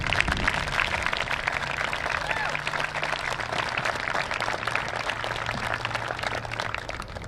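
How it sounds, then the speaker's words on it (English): A graduation ceremony crowd applauds parents with steady, dense clapping, a continuous even roar that holds for the whole stretch with no break. "our graduates will express that with a very, very heartfelt round of applause for all the moms and dads"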